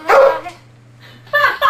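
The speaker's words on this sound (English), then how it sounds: "Only in an Alaskan recording studio would a dog interrupt the session." Dog barking in an Alaskan recording studio, two loud close yelping barks separated by a low whine, sounding indoors and near.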